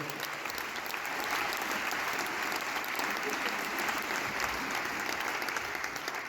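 Concert audience applauding loudly and steadily in a hall in Besançon as a musician's crew is introduced on stage, a dense sustained roar of clapping and crowd noise throughout with no break.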